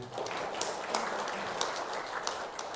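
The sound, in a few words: church congregation applause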